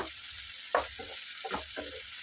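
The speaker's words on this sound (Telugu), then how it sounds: "బాగా ఏగిపోయినాయండి దొండకాయ ముక్కలు" Pieces of ivy gourd (tindora) frying in a pan with turmeric, a steady close sizzle broken by several short scraping stirs of a spatula, with no talking.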